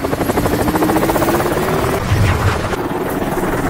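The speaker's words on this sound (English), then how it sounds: "Eventually, the helicopter managed to land despite being badly damaged." A badly damaged helicopter comes in to land, its rotor thumping loudly and steadily with a dense engine whine throughout, close and continuous.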